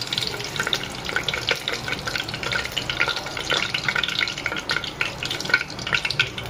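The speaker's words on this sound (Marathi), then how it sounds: "तेल गरम झाल्यावरती आपण टाकूया कढीपत्ता" Curry leaves sizzle and spit in hot oil in a home kitchen, a dense, steady crackling hiss that runs throughout, close by and with no talking.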